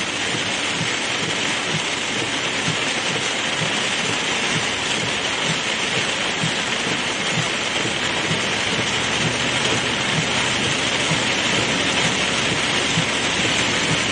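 Heavy rain pouring down during a tornadic supercell thunderstorm in Hattiesburg, Mississippi, a dense, constant roaring hiss of drops on surfaces that stays loud and unbroken throughout, with no voices.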